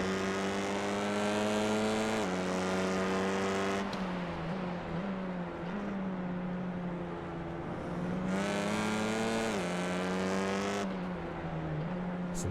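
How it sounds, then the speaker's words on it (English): Continuous roaring touring car engines with single exhausts in a racing video game at Okayama, pitch rising and dropping as gears shift, loud and sustained with no talking. "You can hear the roar of these TCRs and their single exhaust coming out the back."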